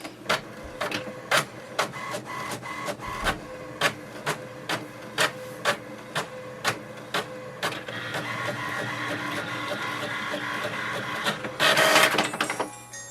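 An HP Envy 6052 inkjet printer makes a copy: a regular series of sharp mechanical clicks and ticks from the paper feed, then a smoother whirring run of the print head, ending in a brief louder rasp as the sheet ejects.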